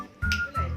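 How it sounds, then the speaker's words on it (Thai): A single crisp finger snap up close, standing out against a low steady background hum. "เดี๋ยวดีดนิ้วก่อน"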